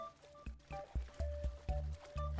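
Splashy plops and watery dunks from a Roblox character diving into water come in a quick, irregular series of short bursts, fairly close and moderately loud.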